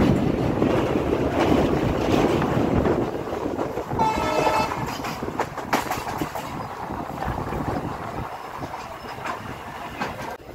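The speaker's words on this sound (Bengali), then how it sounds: "দ্রুততার সঙ্গে আপন মনে ছুটে চলেছে এই ট্রেন" The 15814 Murkongselek–Dekargaon express train rumbles past steadily and loudly through forest near North Lakhimpur, with rhythmic clacking of wheels on rails and a short horn-like tone partway through.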